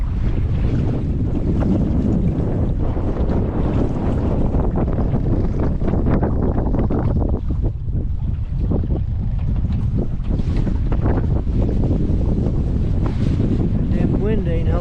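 Wind buffeting the microphone on a boat at Hoover Dam, a loud, constant rumbling gust with water and motor noise underneath, with brief bits of voices mixed in.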